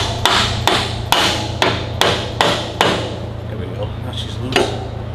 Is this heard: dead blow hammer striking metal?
yes